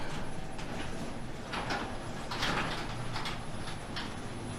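Genie Excelerator garage door opener driving the door along its track, a continuous rattling mechanical whir with a vibrating ceiling mount, some faint chirps over the noise.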